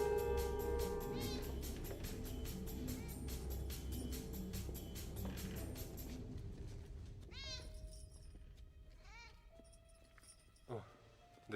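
A cat in the video game Cyberpunk 2077 meows several times in short, separate calls, heard after a stretch of game background sound, close and clear.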